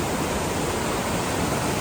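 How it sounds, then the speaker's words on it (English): A waterfall at Big Pine Lakes pours with a steady, loud broadband roar of rushing water, close by and continuous with no talk over it. "This is where the waterfall starts that I showed you guys at the beginning."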